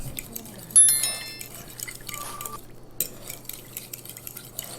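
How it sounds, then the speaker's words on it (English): A fork working brown sugar into butter in a bowl for a keto pecan pie, with a sharp metallic clink near the start followed by soft, steady scraping and stirring close by. "So I'm going to just mix this up good, kind of get it going, and make sure that that brown sugar blends very nice with the butter"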